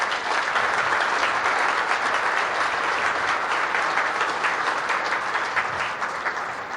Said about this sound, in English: you can all give an applause, a round of applause to the last of its kind right here